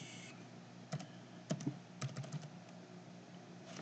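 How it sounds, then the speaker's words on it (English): Typing on a computer keyboard, a short burst of quiet, irregular key clicks close up over faint background hiss, with no voices. "let's type in apps"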